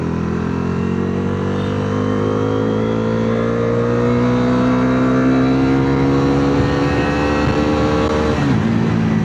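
Bajaj Dominar 350cc motorcycle engine revving steadily up to high rpm, a loud, close, continuous rising drone that builds for about eight seconds before dropping off sharply near the end, with no talking.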